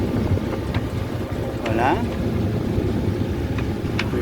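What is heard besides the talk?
sailboat motoring under engine at sea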